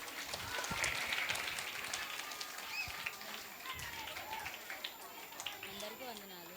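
An audience at a church children's Bible-verse recitation program claps in a scattered, moderately loud burst, with children's voices and chatter mixed in throughout.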